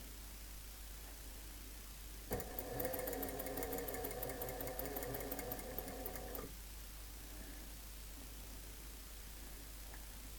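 A sewing machine stitches an under collar in one steady, whirring run of about four seconds, starting abruptly and stopping cleanly, with quiet room tone before and after.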